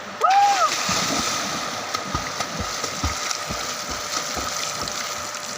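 Rhythmic water splashes repeat about every half second against steady flowing water as someone swims in a cold river in Kerala, with a short voice near the start.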